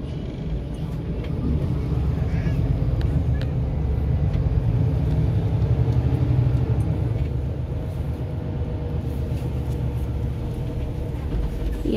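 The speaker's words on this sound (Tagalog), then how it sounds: "Traffic jam. You see, it's a lot of car." Dense city traffic idling and creeping in a jam around Kowloon Bay, Hong Kong, a steady low engine rumble heard from inside a vehicle, with a person talking quietly at times.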